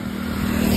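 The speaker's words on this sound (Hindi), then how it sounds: "ये सुपर बाइक जा रही है" A superbike passes on a road near a hotel outside Jodhpur, a loud close engine drone with a steady low tone that swells slightly as it goes by.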